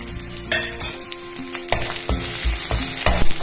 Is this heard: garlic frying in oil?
yes